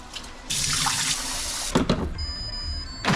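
Short grain rice being rinsed under a running kitchen tap: loud, steady rushing water that starts abruptly after a brief pause and flows continuously, with no talking.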